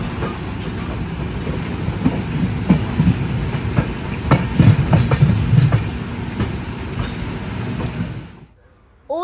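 The Puri Duronto Express rumbles along its rails with a steady clatter and rattle of carriages, rain adding to the noise, before the sound suddenly drops away near the end.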